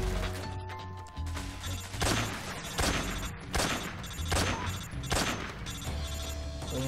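Dense gunfire from the video game Metal Gear Solid 3 Snake Eater, with rapid, loud shots in repeated bursts roughly every second, layered over a steady game soundtrack and ambience.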